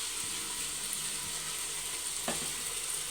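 Potatoes frying in a pot for chicken biryani: a steady, dense sizzle of hot oil throughout, with a single soft clunk from the pot partway through and no voices.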